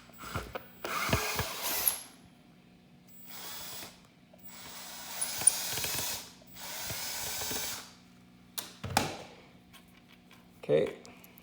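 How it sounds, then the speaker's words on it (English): A cordless drill backs out the strap button on a Stratocaster-style guitar being reliced, in several short bursts of whirring and ratcheting separated by pauses, with faint clicks and handling noise between them. "So I got the cordless drill here, and we're just gonna pop that button off."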